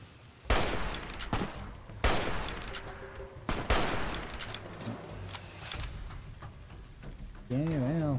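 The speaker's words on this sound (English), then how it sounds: "Oh, nope, that is an anti-material rifle." Heavy anti-materiel rifle shots in Fallout New Vegas crack loudly several times, each followed by a booming tail, mixed with gameplay sounds and a warbling tone near the end while a person talks.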